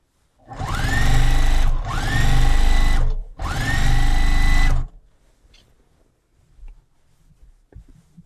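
A sewing machine stitches binding onto a Christmas table runner in three loud, fast bursts, each lasting about a second or more, followed by quiet handling of the fabric.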